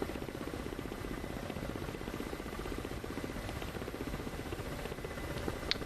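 A helicopter in a flight simulator game drones steadily with a constant rotor hum and buzzing engine tone, held at an even moderate level throughout.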